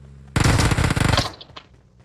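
A sudden loud burst of rapid automatic gunfire in the shooter game PUBG Mobile, close and sharp, lasting about a second before cutting off into faint trailing noise.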